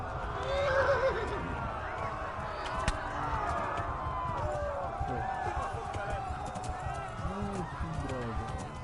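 Horse whinnying in the medieval game Kingdom Come: Deliverance, a neigh near the start over steady game ambience and hoofbeats, with someone talking throughout.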